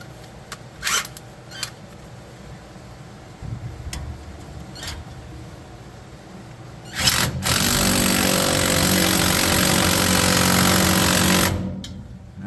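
Power tool running a nut up a U-bolt from below while fitting a B-Body 8 3/4 axle under a 1978 Dodge truck, heard as a few light clicks, then a loud, steady buzzing whir for about four seconds that cuts off sharply.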